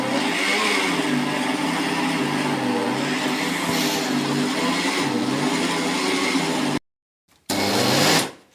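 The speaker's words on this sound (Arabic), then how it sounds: "طبعا الخلاط مش عايز يشتغل على اساس تقيله قوي." Electric kitchen blender churning a thick homemade chocolate spread, a loud steady motor whine with a labouring, uneven tone, running continuously, then cutting out briefly before starting up again.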